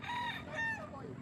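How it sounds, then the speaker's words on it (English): Chickens cluck and a rooster crows close by in a Philippine village, the rising and falling calls standing out over a low steady background rumble. "chicken also."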